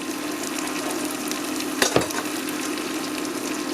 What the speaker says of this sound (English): we're just browning the butter. We're browning the bread cubes.